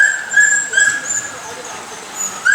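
An eager sled dog harnessed to a heavy cart whines in thin, high drawn-out tones with a few yips, fairly close, over general outdoor background noise.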